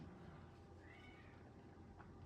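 A house cat meows once, faint and somewhat distant, in a quiet room where crochet work is underway; the short rising-falling call sits low over background room noise.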